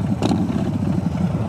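Motorcycle with the exhaust baffles removed and a Memphis Shades fairing, its engine giving a loud, steady, rough rumble close by with a brief mechanical clatter near the start and no talk.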